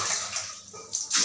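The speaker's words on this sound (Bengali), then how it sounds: "পায়ে জল দাও, পায়ে জল দাও।" Water splashes and pours in a bathroom as a child washes their feet during a bath, with a brief gush that eases and then returns louder near the end.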